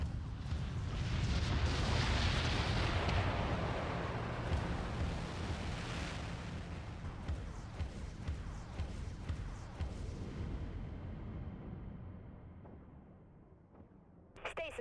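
Enemy missile explosions in the space-warship game Dreadnought make a broad, rumbling roar that swells loud at first, then slowly fades to a low wash, with no voices over it.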